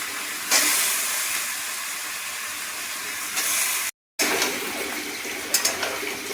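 Bottle gourd sizzles steadily in a hot kadai with bay leaf, dried red chilli and cumin powder, a continuous loud frying hiss that swells in a few places and briefly cuts out, with no one talking.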